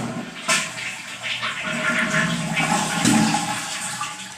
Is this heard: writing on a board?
no